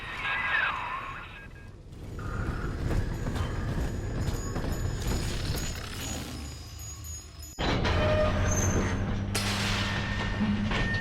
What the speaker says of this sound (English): Take the train to Ryan Amusements.